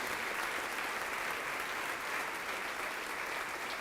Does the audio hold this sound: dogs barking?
no